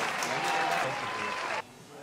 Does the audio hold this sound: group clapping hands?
yes